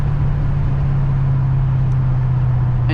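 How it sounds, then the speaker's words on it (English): A 2020 Dodge Challenger Scat Pack Widebody with mid-muffler delete and H-pipe exhaust rumbles in a deep, steady drone from inside the car while driving. "Mid-muffler, delete. H-pipe, this car sounds like a beast now."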